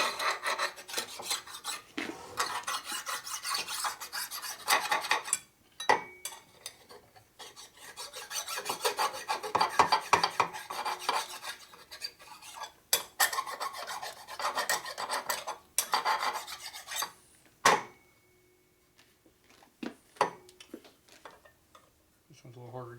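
Metal file rasping a burr off a part from a Harley S&S 113ci Evo engine, with steady close scraping strokes in long runs and brief pauses between passes.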